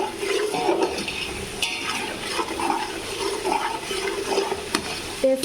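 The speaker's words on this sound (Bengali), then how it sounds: "আমি এখানে সব ধরনের মশলা দিয়ে কষা নিতেছি।" Spices and sour yogurt being sautéed with bay leaf, cardamom, cinnamon and cloves in a pan, giving a steady wet sizzle and bubbling broken by occasional spatula scrapes and clinks.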